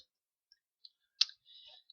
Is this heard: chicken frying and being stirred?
no